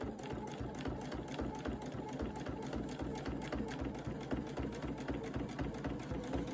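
A sewing machine stitching a bucket hat at a slowed speed, running in a steady, fast needle rhythm with a motor whir underneath, close and fairly quiet, continuous throughout without talk.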